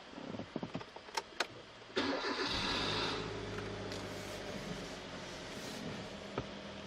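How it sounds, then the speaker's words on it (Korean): A Kia Soul 1.6 CVVT gasoline engine starts inside the car: a few clicks and taps, then a loud starter crank that settles into a quiet, steady idle hum with a faint rattle later, no talking. "이어서 제가 한번 시동 한번 켜보도록 하겠습니다."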